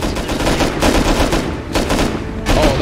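Dense rapid gunfire in the video game Rust, with close, loud bursts of shots in quick succession and only short breaks between volleys.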